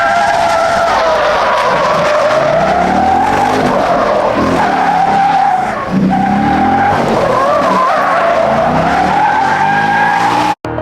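A 2024 Mustang drifts with drift brake mode engaged, its tires squealing loudly and continuously with shifting pitch over engine roar, before the sound stops abruptly.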